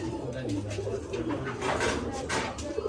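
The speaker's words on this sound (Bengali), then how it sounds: "সেই কোকা পায়রা দেখুন দেখুন কক কক করবে" Koka fancy pigeons, a breed popular in Bangladesh, coo softly in low, rolling phrases at a pigeon sale, repeated over a few seconds beneath a voice.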